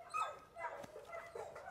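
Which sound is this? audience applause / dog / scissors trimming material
dog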